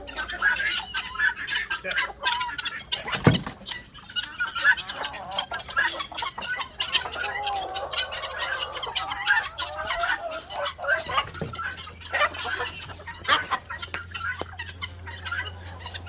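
A flock of farm hens clucks continuously at close range, with scattered louder calls and brief squawks rising over a low background hum, and no voices.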